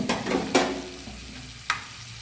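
Peanuts and almonds for a bachelor-style pulao fry in a pan with a low, steady sizzle, and two brief, sharp stirring scrapes stand out.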